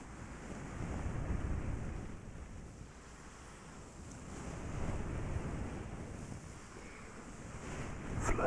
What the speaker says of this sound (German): So ein bisschen wie Meeresrauschen.